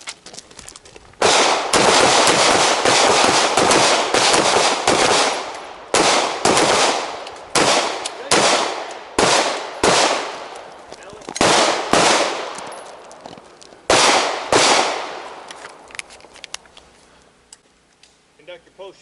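Loud, close pistol shots fired in a series of quick strings with short pauses during a cognitive loading shooting drill on a range, echoing sharply.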